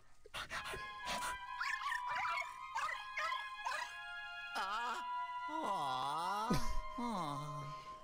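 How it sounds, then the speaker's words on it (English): A ghost dog in Luigi's Mansion: Dark Moon whimpers and howls in rising, wavering cries amid game sounds, loud and close, with short yips early on. "where did that ghostly dog come from?"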